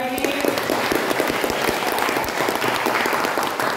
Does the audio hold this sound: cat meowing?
no